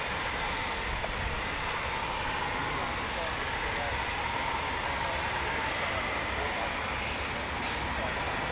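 A Eurofighter Typhoon FGR4 jet engine at RAF Coningsby gives a continuous broad roar that stays steady and moderately distant throughout, with no other distinct sounds standing out.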